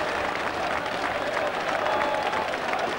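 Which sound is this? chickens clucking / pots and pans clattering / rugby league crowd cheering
rugby league crowd cheering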